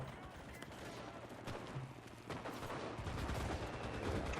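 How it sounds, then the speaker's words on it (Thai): Rapid machine gun fire and other gunshots crackle through a battle in the video game Enlisted, a dense, steady barrage with a low hum beneath it that swells louder near the end. "เนี่ยปืนกลกูจะหมดแล้ว"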